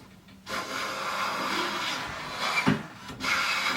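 A Jorgensen No. 4 smoothing hand plane shaves wood, giving a sustained rasping scrape of the blade across the board in a long stroke, followed by shorter strokes and brief pauses.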